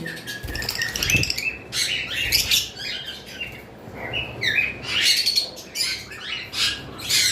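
Many caged sun conures, lovebirds and cockatiels chirp and tweet busily with overlapping calls and occasional squawks, close by and continuous, with no one talking.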